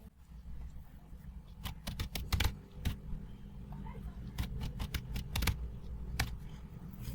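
Computer keyboard keys clatter as code is entered into a WordPress post editor: sharp, close clicks arriving in irregular bursts and clusters, with no one speaking.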